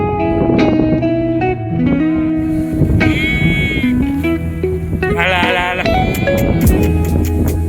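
Sheep bleat loudly and close by, with several wavering, overlapping calls that come in quick succession.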